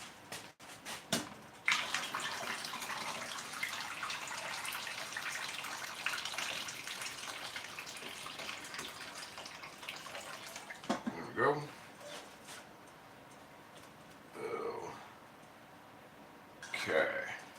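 Hot water runs from a kitchen tap in a steady, hissing stream for about ten seconds, then stops, followed by a few shorter splashes while cooking in a cast iron skillet.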